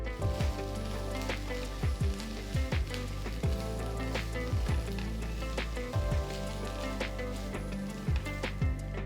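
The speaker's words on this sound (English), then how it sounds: "Finally, add 3 tablespoons of freshly grated coconut and saute once." Freshly grated coconut sautéing in a pan for capsicum chutney, a steady close sizzle with repeated soft scraping and stirring strokes throughout.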